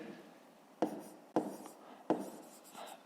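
A pen scratches on paper in three separate strokes, each starting with a sharp onset and trailing off, recorded close and fairly quiet with no talking.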